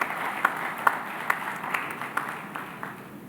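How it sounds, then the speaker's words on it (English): An audience gives a round of applause at an awards ceremony honoring a guest, with scattered hand claps rising over a steady murmur of clapping for a few seconds. "A round of applause for the gentleman for this."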